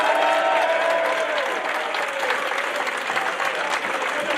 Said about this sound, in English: Okay, big round of applause for anyone else there.